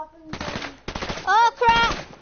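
Gunfire in the Fortnite video game: loud bursts of rapid automatic shots in several clusters, mixed with game sound effects and brief tonal chimes, no talk.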